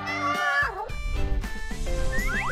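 Kittens meowing loudly and close in a cozy indoor setting, several overlapping high cries with rising and falling pitch, continuous over a few seconds with no talk.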